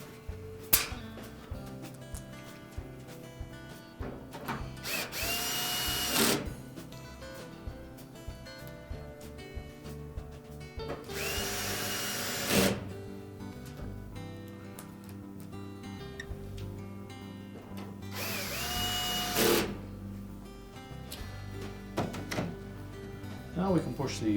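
A power drill drives retaining screws into the back of a Whirlpool washer, three separate bursts of whirring, close, between clicks and handling thunks.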